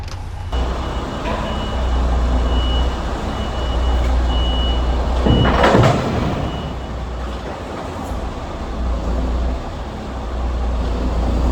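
A heavy truck backs up in a yard to drop off a roughly 20-ton trailer loaded with raisins and sultanas, its engine rumbling steadily under repeated reversing beeps, with a brief hiss of air brakes partway through.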